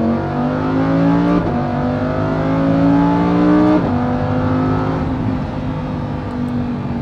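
Lamborghini Huracán EVO engine revving loudly through downshifts, with harmonic engine tones stepping up sharply at each gear change and a steady, close, continuous roar throughout, no talking.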